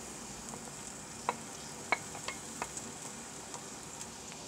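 Quiet steady sizzle of onions frying in sunflower oil in a pan, with a few light clicks of stirring scattered across it.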